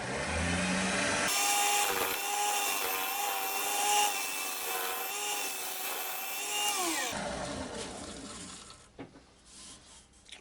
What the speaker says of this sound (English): I'll just give it a quick skim just to make sure it's nice and perfectly round. Just going in with the round nose scraper.